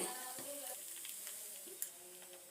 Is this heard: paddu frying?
yes